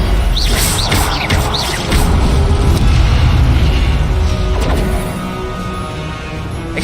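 An Incendio fire spell cast during a Hogwarts Legacy battle against brutes: loud, dense bursts of booming and whooshing magic, one after another, running continuously with only a slight drop near the end.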